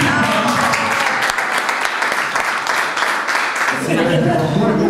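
Applause at a 1967 class alumni reunion, clapping continuously and loud across the whole clip with voices talking over it.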